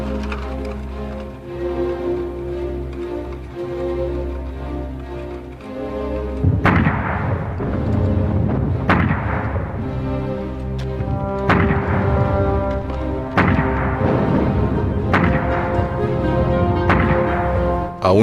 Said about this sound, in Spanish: Empezó a desplegar más cañones.